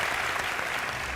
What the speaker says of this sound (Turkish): Bir kısmına ayıp olmasın diye alkışlıyorlar